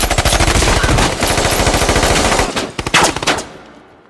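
Rapid automatic gunfire from an action movie, a dense continuous rattle of shots for over two seconds, then a few scattered loud bursts that trail off, close and loud with no talk.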